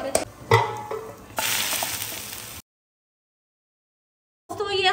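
Onions fry in hot oil for a biryani tempering (bhagar) for white pulao biryani, giving a steady close sizzle with stirring clatter before it cuts to silence, then resumes briefly.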